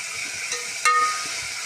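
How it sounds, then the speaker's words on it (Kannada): Bottle gourd and sago fry in ghee for kheer, giving a steady, close sizzling hiss with a brief louder stir partway through and no voices. "ಇನ್ನೊಂದು ಸ್ವಲ್ಪ ಚೆನ್ನಾಗಿ ಫ್ರೈ ಮಾಡ್ಕೊಳ್ಳಿ"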